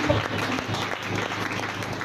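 A church congregation applauds, a dense, continuous patter of many hands clapping close by, with a voice heard faintly under it.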